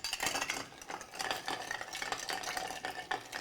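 A weighted spoon stirs Athol Brose in a vessel, making a steady, rhythmic run of scraping and light metallic clinks repeating every fraction of a second, close and moderately loud with no voices.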